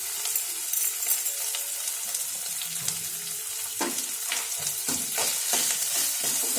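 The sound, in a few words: tempering spices frying in oil with asafoetida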